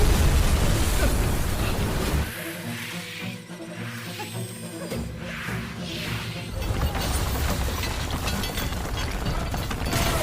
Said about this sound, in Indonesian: alhasil bom itu meledak di sekitar mereka